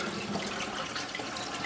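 Water rushing steadily into a chamber, a continuous close hiss of flow with no pauses.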